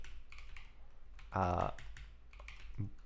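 Fast computer keyboard typing during live Rust programming, a dense burst of clicking keys up close between quieter stretches, with someone talking softly around it.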